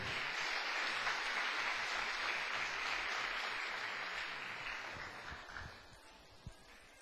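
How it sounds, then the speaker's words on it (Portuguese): Sustained applause from a church congregation, steady and full for several seconds before thinning out and fading toward the end. "Pode dar uma salva de palmas para o Senhor."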